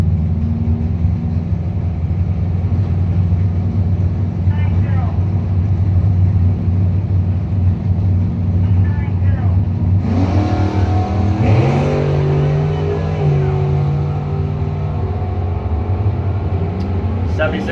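Street-legal drag cars launch at a Thirlby Auto Street Nights bracket race with a loud, near rumble that climbs into a rising roar of acceleration partway through. A public-address announcer talks over the engines.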